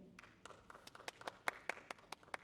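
Audience clapping for special guests at a university English department graduation performance in Taipei, a sparse scatter of individual claps building into quiet, uneven applause from a moderately distant crowd.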